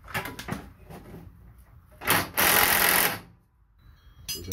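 Nut being tightened onto a stabilizer bar link with a 19 mm wrench on a 2006 Honda Pilot rear suspension; brief mechanical clicks, then a loud, sustained burst of rapid ratcheting or whirring close by, with no talk.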